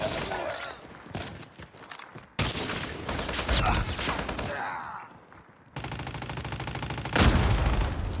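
Bursts of automatic gunfire from the mobile shooter Call of Duty Mobile crackle in sharp, close volleys, separated by brief pauses, with game announcer voices and other effects mixed in.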